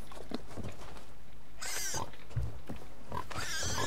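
A pig grunts and squeals in short bursts scattered across a few seconds, some sharp and high, set against background noise and faint voices.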